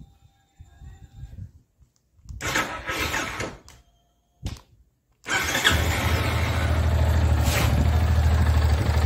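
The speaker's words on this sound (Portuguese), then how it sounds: "E agora vamos aqui na partida da bicha." A rebuilt Yamaha Fazer 250 Flex motorcycle engine is cranked with a few short starter bursts and pauses, then catches and settles into a steady, close idle that runs to the end.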